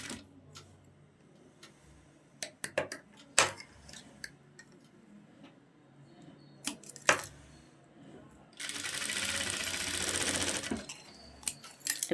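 A sewing machine stitches panels of a flared Anarkali frock for a young girl, running in one steady whirring burst of about three seconds, with scattered clicks, taps and handling noises of fabric and tools before and after.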